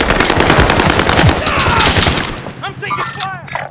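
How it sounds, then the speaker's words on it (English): Rapid automatic gunfire in the video game Call of Duty: Modern Warfare, loud dense bursts filling the first half, then scattered shots and ricochet-like whines, with game voices mixed in. "I'm taking fire."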